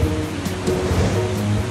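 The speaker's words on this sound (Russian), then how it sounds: "А, слышите? Водопады волнуются." The Iguazu waterfalls roar as a constant, dense rush of water that stays loud and unbroken throughout, with no talking.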